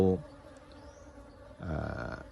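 Loud buzzing of many bees, briefly at the start, then swelling again into a dense, close hum near the end.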